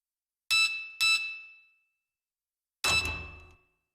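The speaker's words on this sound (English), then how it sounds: "I can hear that beep in my brain." Three ringing metallic alarm tones from Silent Hill 2: two in quick succession, a pause, then a third, each sharp and loud with a clean fading tail, against total silence.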